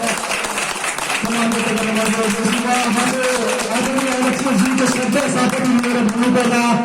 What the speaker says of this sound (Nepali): यो कामको लागि एकछिन जोरदार ताली बजाएर